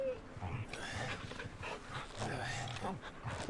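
A dog barking and whimpering in the video game Final Fantasy XVI, a few short yelps over game music and ambience, with a person talking over it.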